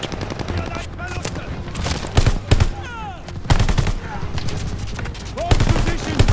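Sustained machine gun fire from a World War II battle in Call of Duty Vanguard, with repeated loud bursts and dense gunfire crowding the scene while shouted game dialogue runs underneath.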